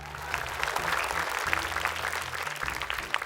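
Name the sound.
audience applause in a TV studio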